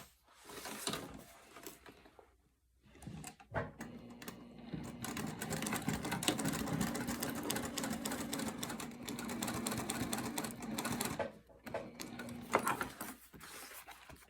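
Sewing machine stitching a zipper panel for a wallet, a continuous motor whir with rapid needle chatter running for several seconds, stopping and restarting with brief pauses at either end.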